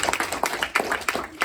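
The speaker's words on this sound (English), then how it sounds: "Give me a round of applause." Small audience applause at a community safety meeting in a conference room, a thin group of people clapping in an uneven, loosely spaced rhythm, moderately close and fairly quiet.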